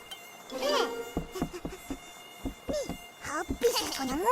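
A high, thin mosquito whine drifts in and out beneath cartoonish squeaky voices and chirpy sound effects in an Upin & Ipin cartoon.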